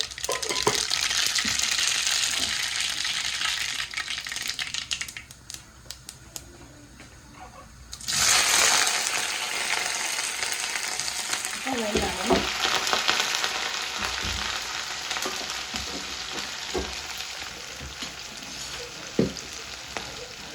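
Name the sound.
mustard seeds frying in a hot pan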